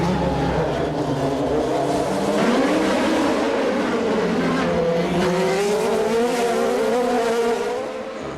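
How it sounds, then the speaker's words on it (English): A Formula 3000 race car at Monaco in 2002 locks up its brakes on the run from the swimming pool complex down to Rascasse. A loud, continuous engine howl with shifting pitch fills the whole stretch, joined by tyre scrub, and there is no talk. "Mauricio locking up there as they come out of the swimming pool complex down to Rascasse"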